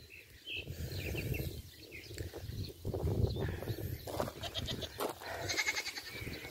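A young goat bleats repeatedly on a small farm field, its calls close and fairly loud over a rough, busy outdoor background, with no speech.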